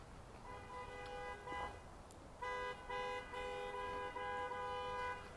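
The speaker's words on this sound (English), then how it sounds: "the adult has now entered the car and is interrupting the child's effusive horn honking" Child honking a car horn in repeated toots, some short and some held, fairly close, with brief gaps between them.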